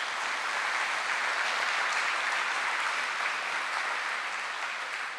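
A lecture audience claps steadily at a research talk on type 1 diabetes, a dense even wash of many hands that holds level throughout and eases slightly near the end.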